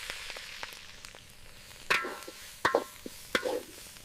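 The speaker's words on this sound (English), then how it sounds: "Loud, satisfying sizzle as ingredients hit the hot wok." Faint background sizzle broken by several sharp spatula clacks against a hot wok and bursts of frying as food is tossed and stirred outdoors, no voices.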